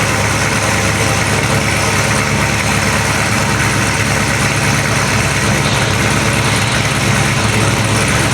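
A loud V8 engine idles steadily up close, a deep continuous rumble with no breaks for several seconds.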